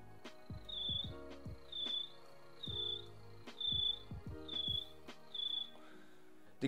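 A beatboxer's voice imitates a cricket, whistling while vibrating the uvula at the back of the throat, giving six evenly spaced shrill chirps between low throaty beat hits, close and alone.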